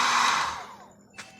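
A heat blower runs with a loud, steady rushing whoosh while warming a vinyl decal sticker, then winds down and fades out, ending with a brief soft click.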